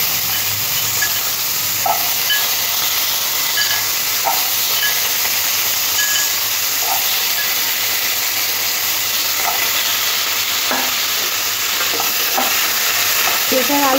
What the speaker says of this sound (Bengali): পেঁপে আর আলুটা একটু নাড়াচাড়া করে ভাজা ভাজা করে নিতে হবে।